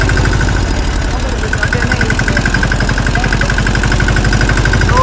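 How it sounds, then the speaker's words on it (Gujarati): A tractor engine runs steadily at close range, a deep, continuous idle-like chug with a rhythmic low throb that stays loud and even throughout. The tractor is pulling a trolley loaded with harvested wheat on an Indian farm. "હું તો નીકળી ગયો ઘરે ટ્રેક્ટર લઈને"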